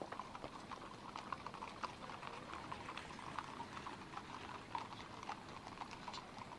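Hooves clip-clopping in the video game Sorcery Two, a steady rapid patter of light knocks over a busy bubbling, watery background, evenly loud throughout.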